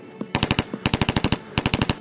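Gunfire at a beach in an animated story, a rapid machine-gun rattle in three quick bursts of sharp evenly spaced shots, close and loud, with no talk.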